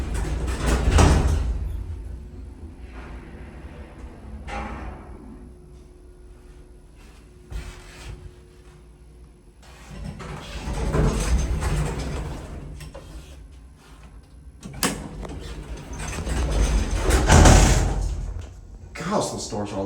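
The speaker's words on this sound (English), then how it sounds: "Gosh, those doors are loud." A 1962 Westbrook traction elevator's doors slide open and shut loudly in several long rumbling sweeps, with a person talking intermittently in between.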